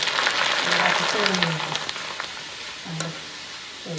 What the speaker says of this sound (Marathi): तर आता आपण मक्याचा चिवडा तळून घेऊ.